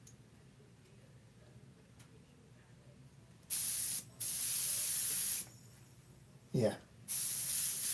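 An Eclipse airbrush sprays paint in loud hissing bursts, two long blasts with a brief gap, then a short puff and another sustained spray, over a quiet room with a brief spoken word.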